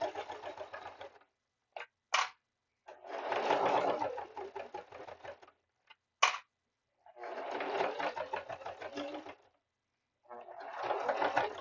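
A sewing machine stitches a quarter-inch seam for market prep in three or four buzzing runs of a few seconds each, close and steady, with brief clicks and quiet gaps between the runs.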